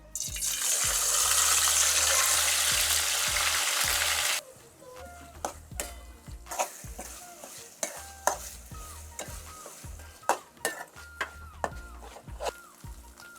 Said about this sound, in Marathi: तर आता तेल गरम झालं आता मसाला परतून घेते